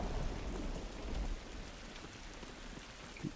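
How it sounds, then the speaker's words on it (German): Steady heavy rain hisses with low rumbling thunder in the video game The Last of Us, a continuous stormy wash with a stronger rumble early on and no speech. "Das donnert."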